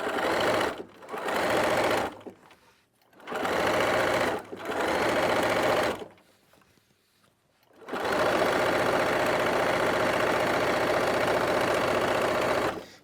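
A sewing machine runs in a zigzag stitch, sewing elastic into a costume, in several close, steady bursts of whirring separated by short pauses, ending in one long continuous run.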